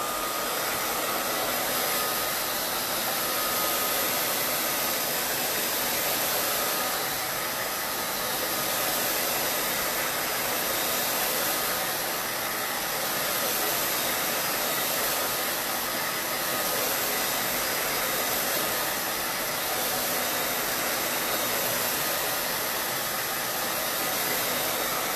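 A hair dryer on warm heat blows steadily over a reclaimed drawer front. The hiss is continuous and close, with slight swells in level and no talking.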